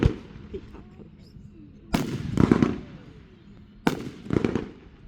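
July 4th 2024 fireworks go off in two loud, sharp bursts with crackling tails about two seconds apart, over a low background hum.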